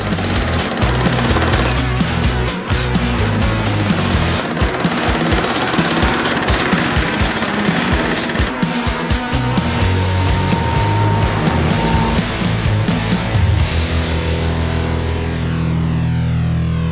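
Lawn mower cutting grass on a home lawn being shaped into a miniature golf green, a loud steady engine drone with rough rattling pulses running throughout before easing near the end.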